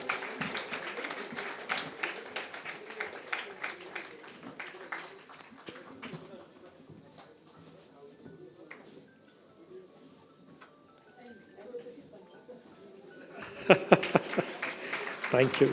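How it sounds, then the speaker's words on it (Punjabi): An audience claps at a community ceremony honouring a couple at a Sikh women's organisation's 25th anniversary in Kolkata. Brisk applause opens, fades under a speaking voice, then swells again near the end. "ਤਾਲੀਆਂ ਦੀ ਆਵਾਜ਼ ਗੂੰਜਦੀ ਰਹਿਣੀ ਚਾਹੀਦੀ ਹੈ"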